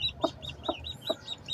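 A Brahma hen clucks close by in a quick run of three soft, evenly spaced clucks, with a faint high chirping or peeping running steadily underneath.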